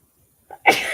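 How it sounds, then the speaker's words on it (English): A single sharp sneeze with a short inhaled catch just before it, loud and close. "I think it's sneeze. I got the allergies now."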